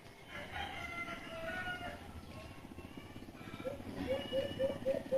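A rooster named Carpet crows close by in a farmyard, drawing out several harmonic calls with a sharper run of repeated clucks toward the end, a voice talking underneath.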